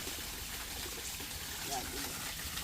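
Mountain stream water in China rushes as a faint, even broadband hiss with no breaks, and soft voices sit low beneath it.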